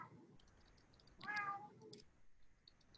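A house cat meows once, quietly and briefly, in a calm indoor room.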